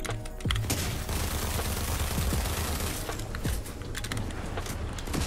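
Rapid gunfire during a shotgun fight in a video game, dense bursts of shots and clattering mechanical sounds running continuously and loud, with no talking.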